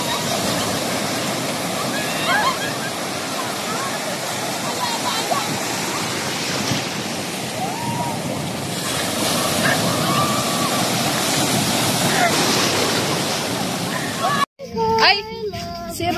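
Rough surf rolls in at a beach resort in Liwliwa, Zambales, a continuous wash of breaking waves heard close, with faint voices in the background before a sudden cut to a brief burst of speech.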